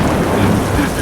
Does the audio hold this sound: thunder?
yes